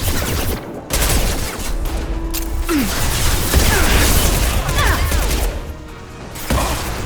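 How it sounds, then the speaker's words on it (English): Mass Effect Legendary Edition combat gunfire, loud bursts of rapid shots with booming impacts and sharp ricochet-like whines, dense and near, pausing briefly before resuming. "Firing a high-impact shot!"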